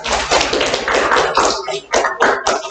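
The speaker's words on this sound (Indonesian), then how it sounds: "tepuk tangan untuk kelompok 3" A class of students applauds a student group after their presentation on the dangers of smoking, with dense, close, loud clapping lasting a few seconds and dipping briefly near the end.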